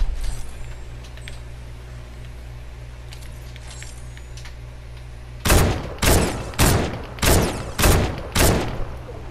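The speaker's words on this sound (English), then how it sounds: "I'm getting shot at, I'm getting shot at." Gunfire in the video game Fortnite: after a stretch of low background hum, six loud, sharp shots ring out at an even, steady pace near the end.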